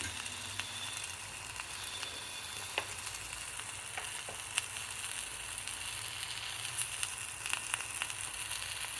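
Paneer tikka masala ingredients sizzle and crackle steadily in oil in a pan, with occasional stirring scrapes, fairly quiet and without talk.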